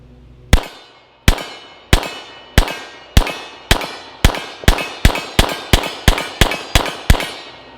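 Handgun shots ring out at the range, about sixteen sharp cracks each with a short ringing tail, starting spaced about a second apart and then speeding into a quicker string, loud and close with no talk.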